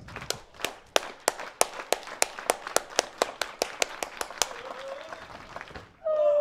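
A stadium crowd in a grandstand at an athletics track claps in a steady rhythmic beat for a high jumper, about twenty sharp unison claps spreading out and fading before a brief swell of noise at the end.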